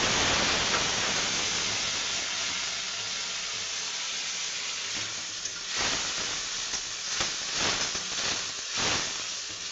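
Onion paste hits hot oil already holding garam masala, bay leaves and dried red chillies, and bursts into a loud, steady hiss. The hiss slowly eases, then rough bursts of stirring rise over it.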